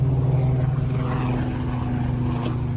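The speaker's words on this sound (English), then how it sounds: "Some inconsiderate helicopter." A steady, loud droning helicopter engine with a low rotor-like pulse hangs overhead throughout, with no talking.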